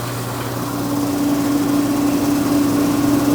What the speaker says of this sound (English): You'll see the variable frequency drives are now starting up.